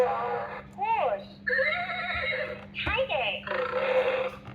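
A toy laptop plays a synthesized horse neigh, a few electronic whinnies in quick succession with a faint steady hum underneath.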